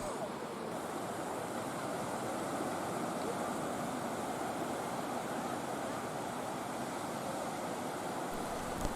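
Steady wash of surf on a shallow, gently sloping beach at Muzhappilangu near Thalassery, Kannur, continuous and fairly loud with wind noise on the microphone and no talking.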